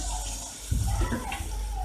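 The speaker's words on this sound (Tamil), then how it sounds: "இப்போ கொஞ்சம் தண்ணி ஊற்றிக்கலாம்." Water splashes and pours into a masala puri mixture in a pan, a short close gush rising in the middle of a steady kitchen background.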